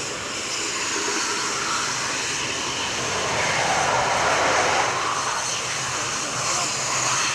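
Couteau Delta jet aircraft at the RIAT Fairford airshow, a broad loud roar that swells and fades slightly as it passes, heard at a distance with a commentator's voice faintly underneath.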